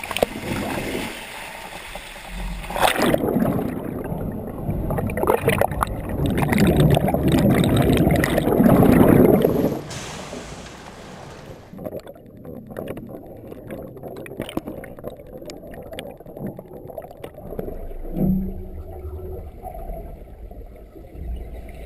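A mock helicopter plunges into water during an Alaska escape training drill. Loud splashing and churning water build and peak, then cut to a muffled, quieter underwater rumble with scattered bubbling.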